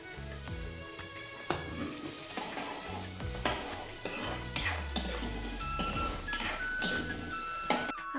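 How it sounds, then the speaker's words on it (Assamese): Chicken biryani being stirred in a pot, with metal utensil scrapes and clinks against the cookware over a soft sizzle, with no voices present. "মই এনেই লৰাইহে দিছোঁ মাজতে এবাৰ।"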